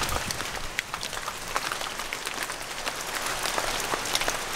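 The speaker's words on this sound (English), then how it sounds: "And the rain right now, that's all right, nothing the tree can't handle." Steady rain falls on trees in the forested Zagori region of Greece, a dense, continuous patter of drops on leaves, fairly loud and close, with no voices.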